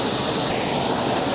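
Linn Falls waterfall heard up close from in the water: a loud, constant roar of rushing, splashing water filling the scene, with no voices.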